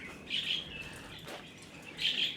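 Small birds chirping in Thailand, two short bright bursts of high twittering at the start and end, faint and fairly distant over a soft outdoor background with no talk.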